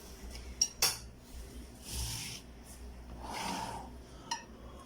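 Tandoori chicken marinade stirred in a bowl, with a few sharp spoon clinks against the dish and soft scraping, rubbing swirls of the thick mixture between them, close and fairly quiet.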